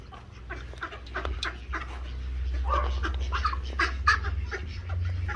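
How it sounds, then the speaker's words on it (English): Dogs bark and whimper at a distance near a fenced enclosure, with fowl calls mixed in over a steady low background hum. "Dogs."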